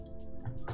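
Someone types a Windows batch file in Notepad on a computer keyboard, with a few close, crisp key taps in quick succession.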